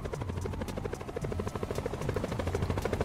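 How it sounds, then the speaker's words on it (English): Helicopter rotor chop in a horror-style video game, a steady rapid thudding with a whining buzz overhead, loud and continuous with no talk over it. "Why is there a fucking helicopter though?"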